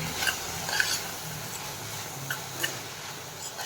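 Chopped banana flower sautés in a pan, a steady close sizzle broken by a few light scraping clicks of a spoon stirring it, with nobody speaking.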